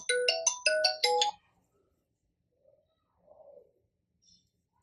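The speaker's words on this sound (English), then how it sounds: "just give me a moment, I'm receiving a call." A phone ringtone chimes for an incoming call, a quick bright melodic burst of about four notes near the start, loud and close, followed by near silence with a few faint soft sounds.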